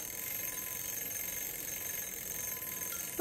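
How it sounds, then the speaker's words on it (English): Kitchen timer going off for salmon being cooked, a loud continuous electronic beeping alarm ringing steadily throughout with no talk. "Oh, that's the timer for my salmon."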